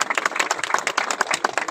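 An audience at a degree college foundation stone ceremony in Mandi bursts into steady, dense applause, many hands clapping together in a continuous rhythmic patter that fills the whole moment without any voices.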